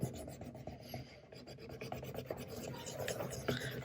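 Hard rubbing scrubs at spots on a Kodak Instamatic 414 camera during a refurb, a close, continuous rasping scrape with uneven strokes and no talk.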